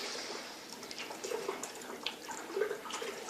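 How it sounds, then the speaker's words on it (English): Home-brewed IPA being stirred in a pot, faint soft liquid swishing and sloshing with a few gentle splashes, heard alone. "Just got to stir this again."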